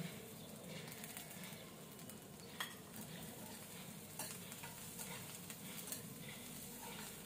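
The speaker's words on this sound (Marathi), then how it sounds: "हा सुद्धा आपल्याला मीडियम फ्लेमवर थोडासा परतवून घ्यायचा आहे" Spring onion stalks sautéing over a medium flame alongside onion for corn Manchurian, a faint, even sizzle with light stirring scrapes and occasional soft clicks, quiet and close with no talk.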